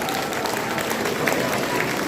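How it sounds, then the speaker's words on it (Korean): Audience applause fills a party members' conference hall in Honam, a dense, steady wash of many hands clapping at once, fairly distant and evenly sustained throughout. "앉아서 고생하셨다고 박수 한번 부탁드립니다"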